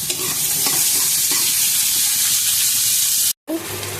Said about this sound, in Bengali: পেঁয়াজের সাথে আলুটা ভাজা হয়ে যাবে